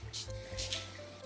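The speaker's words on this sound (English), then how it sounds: "I'm gonna go ahead and spray both of them on paper to refresh my memory on this combo." Perfume sprayed onto paper gives a few quick, soft hissing spritzes, close and faint, over a quiet background.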